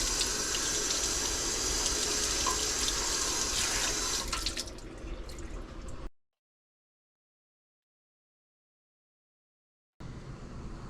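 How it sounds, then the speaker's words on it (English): A kitchen tap runs strongly as garlic is rinsed off a grater, a steady close hiss and splash that tapers off and cuts out, followed by a few seconds of silence and then faint running water again. "It's better to rinse the garlic off the grater before it dries."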